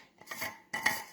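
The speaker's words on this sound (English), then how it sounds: "That's the sound of a thermos." Thermos handled while a drink is poured, two brief clattering bursts of hollow metal and liquid, close and quiet, with no voices.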